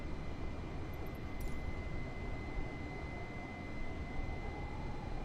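Steady jet engine drone in the Microsoft Flight Simulator 2020 video game during cruise over the desert, a constant broadband roar with a faint high whine, continuous and unchanging throughout with no talking.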